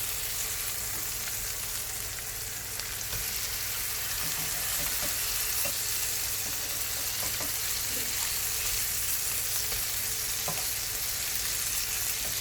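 Fish fillets fry in oil in a pan, giving a steady, close, loud sizzle and crackle that holds without break, with a few small pops and stirring touches along the way.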